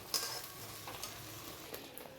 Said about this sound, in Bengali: ফুল হাই ফ্লেমে নাড়ছি যতক্ষণ না কষা হয়, তেল না যতক্ষণ বেরোয়